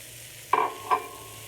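Samosa filling seasoned with chaat masala is stirred in a pan: two short scraping strokes with a soft sizzle, close and fairly quiet, with no voices.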